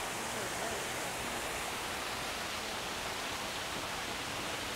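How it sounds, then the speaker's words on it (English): Steady rushing water of a garden waterfall at the Morikami Japanese Garden in Florida, a constant broadband splash heard close and evenly throughout, no voices. "This is the best waterfall of the garden, right here."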